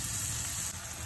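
Chopped onion fries in butter in a hot pan, a faint, steady sizzling hiss over about a second with no talking.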